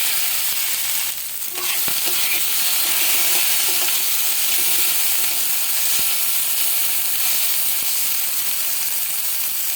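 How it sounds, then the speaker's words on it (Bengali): Okra frying in a pan for raita, giving a loud, continuous sizzle and hiss, with a brief stirring scrape near the start and a few faint clicks, all without speech. "আমার ভিন্ডিটা ভাজা হয়ে গেছে"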